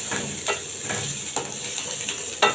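Garlic and onion fry in a pan, browning in oil, with a steady hiss of sizzling broken by a few scraping stirs of a spatula; close, continuous and fairly loud, with no voice.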